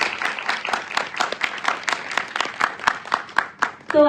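Hand clapping from a theatre audience at a comedy play in a Delhi auditorium, a steady crowd of claps with a lively, uneven rhythm that holds for about four seconds before a brief voice cuts in at the end.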